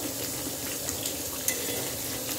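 Meat and potatoes sauté in a pan, a steady soft sizzle running evenly throughout with a couple of faint utensil clinks, no voices.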